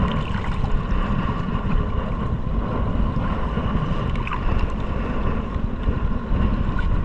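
Strong wind buffets the microphone in a constant, loud roar, with low rumbling gusts and no voices.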